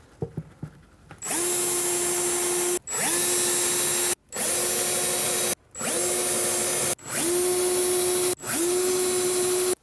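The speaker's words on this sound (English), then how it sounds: "And then put your pilot holes in place." A power drill boring pilot holes while a soft-close larder unit is fitted, heard as six loud whirring bursts separated by short pauses, each spinning up quickly and then holding steady.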